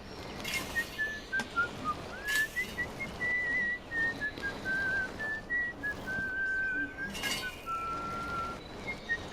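Whistle horn on a vintage machine in Farming Simulator 25, a wavering melodic whistle running almost continuously with short breaks, fairly close and clear over a soft background hiss.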